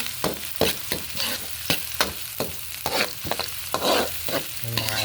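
Onion and garlic sauté in a hot pan for native chicken sinampalukan, close sizzling broken by regular scraping strokes of a stirring utensil, repeating every half second or so.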